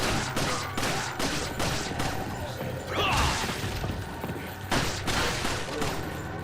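Gunfire in a shooter video game, a headshot, with several sharp bursts spread across the span, a clustered volley near the middle over constant game noise, while players talk.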